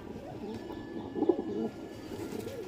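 A pure Punjabi Jeera breed pigeon coos softly at a pigeon farm in India, a few low, throaty murmuring coos close by over quiet background noise.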